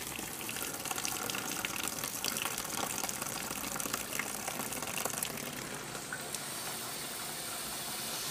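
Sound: portable mini washing machine filling with water

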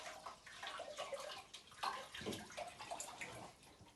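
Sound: milk being poured into a pot

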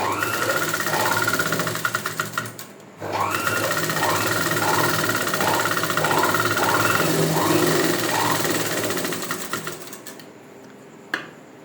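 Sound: sewing machine stitching piping

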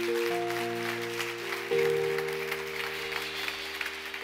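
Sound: congregation applauding in church

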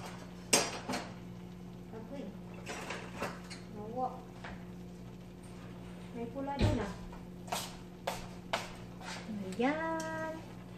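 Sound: stirring pancit noodles and vegetables in a pan

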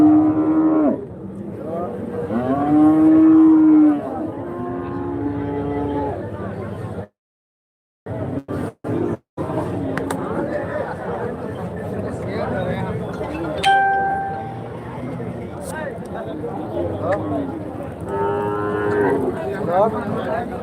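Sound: cattle and calves mooing at a cow market

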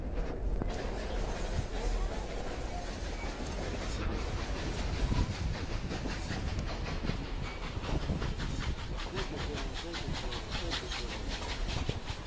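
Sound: Durango and Silverton train chugging along the tracks

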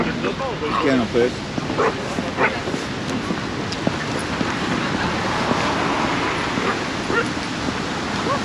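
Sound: dogs barking at a dog park

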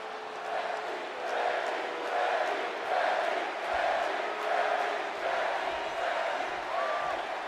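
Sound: crowd cheering in WWE 2K20 video game

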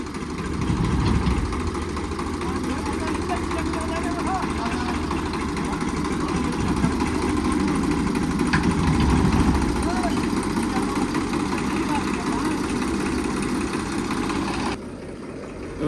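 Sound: tractor engine running

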